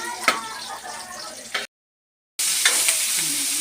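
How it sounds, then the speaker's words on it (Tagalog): Ingredients for a Filipino mung bean (monggo) dish sautéing in a pan, a close sizzle with stirring scrapes, cut by a brief silent gap before the frying resumes louder. "Gisa time. Pinigisa na."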